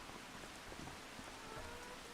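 Rain in the video game Farming Simulator 25 falls as a soft, even patter with faint drops, steady and quiet throughout.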